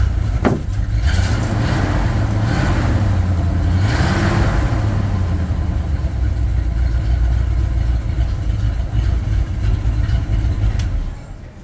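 A 1967 Bombardier Wide Gauge snowmobile engine idles steadily and loudly up close, a continuous low rumble with a slight rise in pitch early on before settling, then cutting off at the end.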